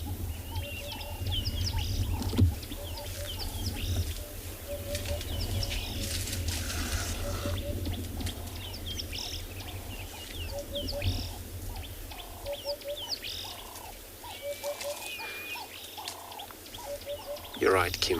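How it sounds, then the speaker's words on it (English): Wild birds calling at sunrise in the Tswalu Kalahari reserve on safari. Short, repeated chirps and whistled phrases come from several birds at a moderate distance, over a steady outdoor background hum. "If you mean that bird is still calling, because there's kind of a few different call of birds in this area."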